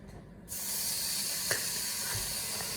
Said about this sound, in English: now we add the bacon